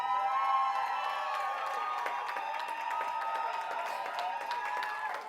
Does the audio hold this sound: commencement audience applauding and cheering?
yes